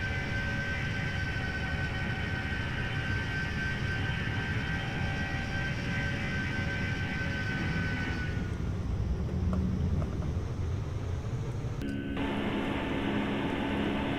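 A Boeing 757-200 taking off in the Prepar3D flight simulator: a continuous loud jet engine roar with a whine on top, shifting in tone partway through as the view changes, steady and without talk.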